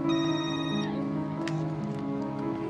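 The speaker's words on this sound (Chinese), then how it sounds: "可裴姨却打电话来。" An incoming call makes a phone ring in a drama scene, its tonal ringtone clear at the start and then giving way to sustained background music.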